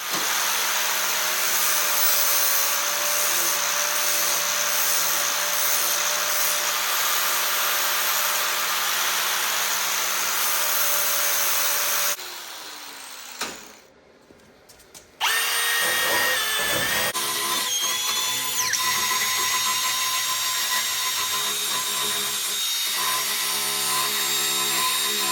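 Power tool cutting metal mounting pieces during an LS swap on a Nissan S14: a loud, sustained high-pitched whine for about twelve seconds, a brief near-silent pause, then a second steady grinding cut.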